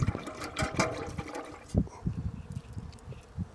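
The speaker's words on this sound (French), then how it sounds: "Vous rincez votre distributeur." Water running and splashing as a battery-powered sublimator's dispenser for oxalic acid vaporising is rinsed, a close gush that fades into softer trickles and drips.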